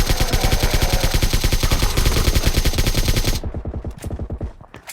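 Rapid automatic gunfire from PUBG zombie mode, a video game, crackles in a dense, steady stream of close, loud shots that thins into a few scattered bursts at the end.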